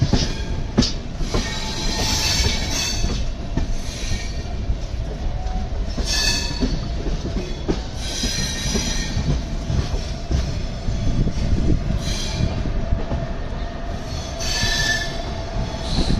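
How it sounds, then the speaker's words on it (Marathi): The Mandovi Express runs steadily on the Konkan Railway after leaving Ratnagiri, a continuous rumble with rhythmic clicks and bursts of high metallic wheel squeal throughout, no voices. "गाडी निघाली रत्नागिरीवरून"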